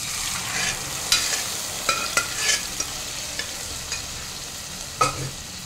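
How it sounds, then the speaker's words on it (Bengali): Boiled chana dal is stirred into spice masala frying in oil for a Bengali-style dish. A steady sizzle runs under irregular scraping and clanking of the spoon against the pan. "এবার আমি সেদ্ধ করে রাখা ছোলার ডালটা দিয়ে দেবো।"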